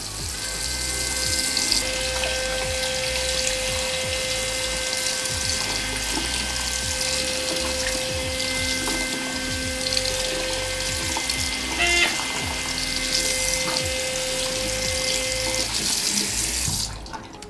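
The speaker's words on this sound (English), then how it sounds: "So if you guys turn on the water," Water runs steadily from a tap, a continuous close hiss and splash that holds at an even level throughout with no voices.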